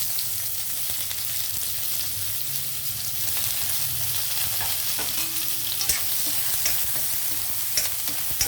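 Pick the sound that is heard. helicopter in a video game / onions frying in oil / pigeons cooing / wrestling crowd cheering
onions frying in oil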